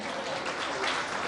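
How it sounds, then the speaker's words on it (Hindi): Audience clapping to welcome alumni from India's first World Cup-winning year, at an alumni association gathering. The clapping is dense, steady and sustained throughout, with no break in it. "तो जोरदार तालियों से स्वागत कीजिए"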